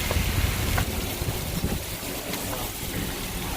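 A huge thunderstorm blows strong wind and rain against a house, a dense, roaring wash of noise with rough gusts and no pauses.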